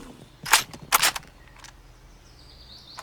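Sharp rifle shots in Cabela's Big Game Hunter Pro Hunts, two loud close cracks about half a second apart with brief echoing tails, followed by quieter game sounds.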